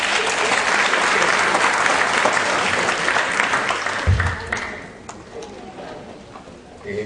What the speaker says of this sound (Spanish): Fuertes palmas, compañeros